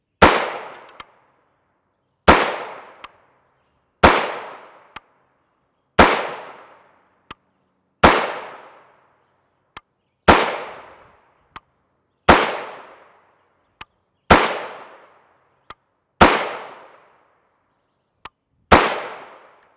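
Gunshots from an 8-inch Diamondback DBX firing 5.7x28mm Hornady rounds: about ten loud, sharp reports spaced a couple of seconds apart, each decaying quickly into silence, with a faint click between shots.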